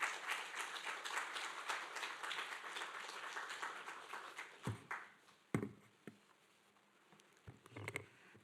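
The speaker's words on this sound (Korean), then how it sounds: "우리 전사님 나오실 때 크게 하나님 앞에 영광의 박수 올려드리겠습니다." A church congregation claps in a dense, steady patter of applause that gradually thins out and fades into scattered claps and quiet room noise.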